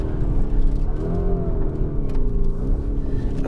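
A Lamborghini Urus with a 650-horsepower twin-turbo V8 pulls hard under acceleration, its deep engine roar steady and loud throughout with rising harmonic tones as revs build, close and continuous.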